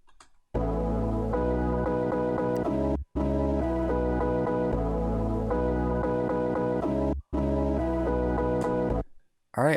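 A lo-fi house bass line plays together with a synth melody. The full, loud, steady mix of deep bass and brighter layered chords repeats in phrases separated by short pauses, with no voices.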